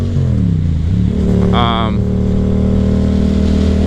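A Yamaha FZ07 motorcycle engine runs loud and close during a ride, with a steady rumbling drone and a brief rev, under heavy wind noise.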